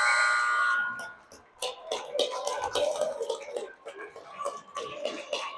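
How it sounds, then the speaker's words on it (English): A loud, sustained buzzer marks the end of a period at an ice hockey arena during a youth sectional game, lasting about a second before crowd noise and voices take over. "We're going to hear the buzzer in a second here"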